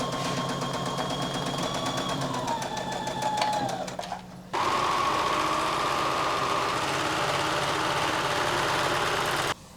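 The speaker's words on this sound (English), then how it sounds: "I'm going to sew this with a 1/2 inch seam allowance and then finish the raw edge with my serger" Sewing machine stitching the front seam of a summer top with a half-inch seam allowance, a steady close mechanical whir that briefly stops near four seconds, then resumes at an even, rapid pace.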